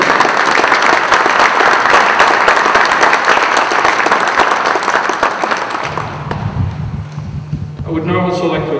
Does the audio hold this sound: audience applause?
yes